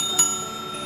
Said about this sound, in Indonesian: aktifkan lonceng notifikasinya